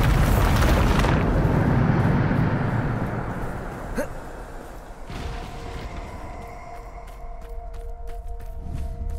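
A heavy blast from the Bombarda spell in Hogwarts Legacy opens with a loud, rumbling boom that decays into a long fading roar, followed by a quieter sharp crack and lingering ambient tones.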